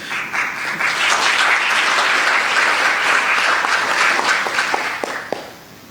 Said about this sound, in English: I hope you had the loud clap from the audience here.